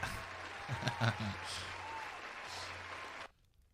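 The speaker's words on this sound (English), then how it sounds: "So that deserves a round of applause for you." A small group claps for a viewer during a live stream about painting a Warhammer 40k Space Marine. The faint, distant applause rolls on steadily for about three seconds, with a voice mixed in, then cuts off sharply into near silence.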